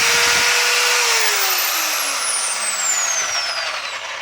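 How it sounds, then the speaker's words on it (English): Compressed air hissing from the side vent of a power drill, blown into a hole drilled in ceramic kitchen tile to clear out dust; a loud, steady broadband rush with a falling whine, continuous for about four seconds. "You can use this as well to just blow out all the dust"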